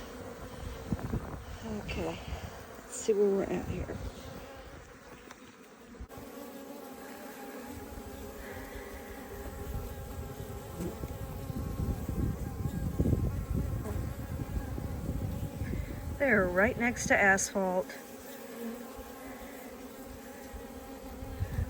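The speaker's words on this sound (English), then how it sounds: "already got a few bees smacking their little selves against my veil" Africanized bees swarm around a large water meter box hive in afternoon sun beside asphalt, a thin continuous buzz with individual bees whining close past the listener, while a person talks over it at intervals.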